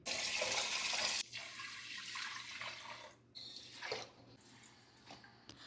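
Water pours and splashes loudly at first, then softer sloshing and swirling follows with intermittent clinks as red matta rice is rinsed in a bowl.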